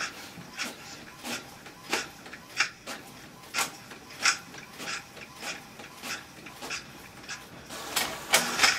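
An office printer runs off booklet pages, giving a regular series of sharp mechanical clacks and whirring pulses, roughly one every half second, close up and with no talking.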